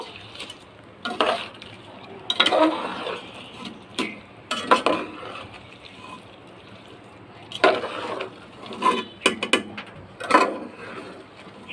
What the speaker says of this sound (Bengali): এখন দুটো আমি নেড়ে চেড়ে মিক্সার করে দেব